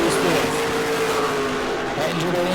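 Pro Late Model stock cars race at New Smyrna, a dense, steady roar of several engines running together at close range, with a race commentator talking continuously over it.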